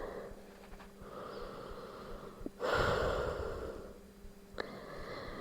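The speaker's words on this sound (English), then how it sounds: "Take a couple of breaths" Slow breathing in a yoga rest pose: soft, faint inhales and exhales, with one fuller, louder breath drawn through the middle, heard close and alone.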